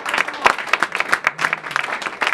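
A church congregation bursts into lively, loud applause, dense rhythmic clapping with sharp individual claps standing out, a few voices mixed in among the crowd.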